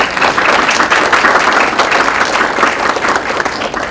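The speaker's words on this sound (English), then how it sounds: "if you could give our round of applause" Applause from an audience at a science communication talk, dense steady clapping close by that fills the whole stretch without pause.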